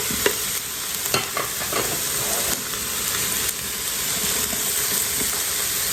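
Garlic, carrots, potatoes and corn sizzle steadily in a soup pot, with a continuous frying hiss and occasional stirring clicks from a utensil, close and fairly loud with no talking.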